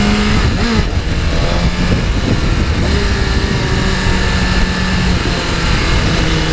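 A 2024 BMW S1000RR motorcycle that has dropped into neutral, its engine revving loudly and continuously with shifting pitch over wind and road rush, close and sustained throughout.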